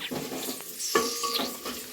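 Ingredients fry in a pan over high heat until golden, a faint, close sizzle broken by light scraping stirs and a few clinks of a spoon on the pan.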